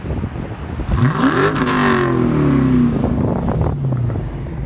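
A Dodge Challenger SRT 392 with a 6-speed manual and Hemi V8 revs hard with the pedal floored, its pitch sweeping sharply up and then sliding back down in a loud, close, continuous roar with some wind noise.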